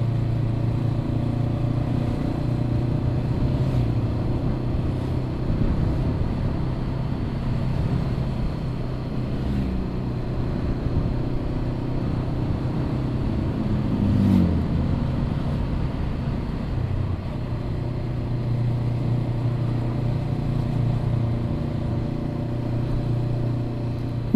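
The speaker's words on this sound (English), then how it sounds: "Revving the hell out of the car, out of the bike." Honda CB500F motorcycle engine droning steadily at high revs throughout, with loud wind rush and a brief swell midway, recorded close from the rider's seat on an Alpine pass route.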